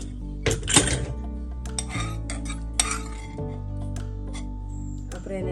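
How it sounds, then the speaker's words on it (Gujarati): A pressure cooker of cooked chana dal is opened in a home kitchen, giving sharp metallic clinks and knocks of the lid and utensils over a low steady hum, with a voice talking faintly. "હવે આપણે આ ચણાની દાળ ખોલશું એનું કુકર"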